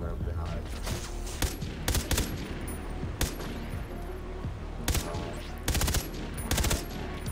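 Burst-fire gunfire in Far Cry 3 Blood Dragon comes as short, clustered volleys of sharp shots. They repeat at uneven intervals over a steady hum of game noise, loud and close.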